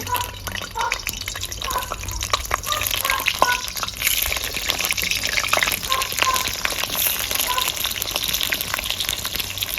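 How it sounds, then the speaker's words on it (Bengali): Large cut potatoes frying in hot oil at an open-air cooking spot, giving a dense, continuous crackling sizzle with scattered sharp pops, loud and close, with no talk over it. "প্রথমে আলুগুলো ভেজে নেব।"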